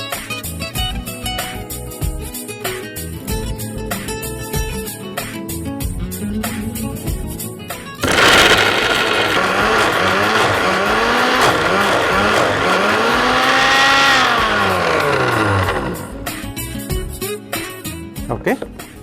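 A kitchen mixer grinds an egg mixture into a smooth paste, a loud, steady whirring roar that starts abruptly and runs for several seconds with shifting pitch before cutting off, with talk and background music on either side.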